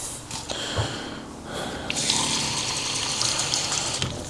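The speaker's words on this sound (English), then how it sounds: "I'll pour like 47 or 48 grams of water to start" About 47 to 48 grams of water poured into a small cup on a scale, a close, trickling splash that starts in short bursts and then runs steadily, with no voices.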